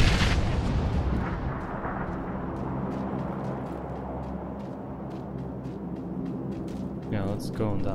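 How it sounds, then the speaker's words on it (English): In PUBG on the Miramar desert map, a grenade goes off with a loud booming burst followed by a long rumbling, crackling decay, with players talking over it. "I'm gonna try a nade."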